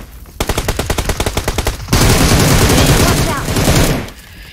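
Rapid automatic gunfire in the battle royale game BGMI: a steady rhythmic burst of shots for about a second and a half, then a dense continuous roar of heavy firing that fades near the end, loud and close.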